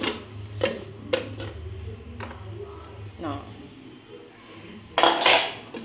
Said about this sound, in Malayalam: നമുക്കൊന്ന് കുക്കർ തുറന്ന് നോക്കാം